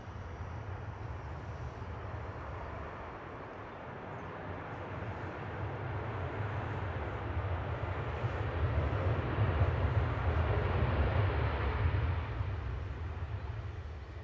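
An Airbus A330-300 arriving at Manchester Airport from New York JFK, a broad distant jet roar that slowly swells louder and then eases slightly, with no talking.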